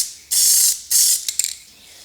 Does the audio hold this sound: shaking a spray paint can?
yes